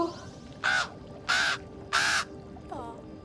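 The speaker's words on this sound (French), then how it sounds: "C'est un corbeau." Three loud, harsh crow caws in a steady rhythm from the Star Stable video game, followed by a fainter fourth call over a low steady background hum.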